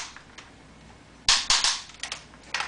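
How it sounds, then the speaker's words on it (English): Transformers Movie 25th Anniversary Unicron figure having its leg joints flexed, giving short sharp plastic ratchet clicks in quick irregular bursts, close and crisp with no talking. "This is a hell of a good figure when you hear a ratchet sound like this for in and out."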